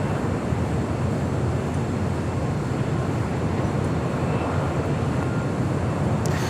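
A jet airliner, a Boeing 737 MAX 8 or an Emirates A380, rolls across runway 25 at LAX, giving a steady broadband engine roar throughout, loud and unbroken, with no voices.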